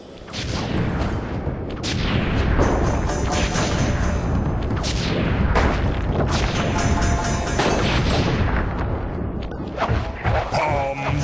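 A loud, nonstop barrage of booming blasts and crackling bursts from the video game Sly 3, one firework explosion piling onto the next for the whole stretch.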